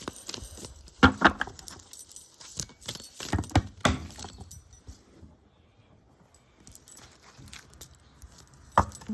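Cards riffling and snapping in a few bursts, with rustling and handling in between, then a final sharp flick; close and fairly quiet.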